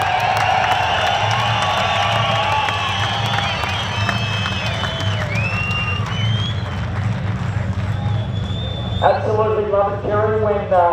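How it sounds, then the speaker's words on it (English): At the Summernats car show, a large crowd keeps up a loud, continuous roar and cheer with high whistles through it. An announcer's voice comes in near the end. "So I think that deserves an extra cheer as well."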